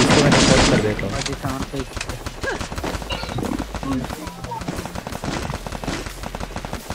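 Rapid bursts of gunfire in the Free Fire battle royale game, with dense, crackling shots packed close together throughout and a voice speaking over the action.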